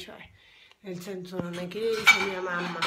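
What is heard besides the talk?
dishes and cutlery clattering as plates are taken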